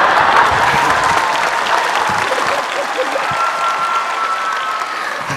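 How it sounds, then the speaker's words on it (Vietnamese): Sustained applause from a studio audience at a Vietnamese comedy or variety show, a dense, steady wash of clapping that stays loud throughout and fades slightly toward the end. "có lẽ là những tràng pháo tay của quý vị đã thay lời cho Mai Đình Tới"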